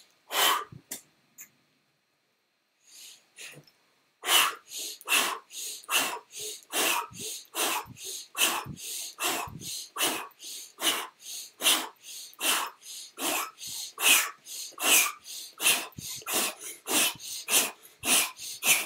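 Forceful breaths during a breathing exercise, drawn in and pushed out in quick, steady succession, close and loud, with a short pause near the start before the rhythm settles.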